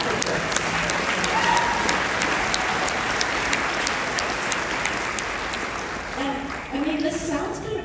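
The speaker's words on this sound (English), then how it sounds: "clap for him, clap for Frakes." Convention crowd at a Star Trek panel applauding steadily and loudly throughout, a dense wash of clapping that thins slightly near the end as a voice or two rises over it.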